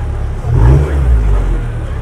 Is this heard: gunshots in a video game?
no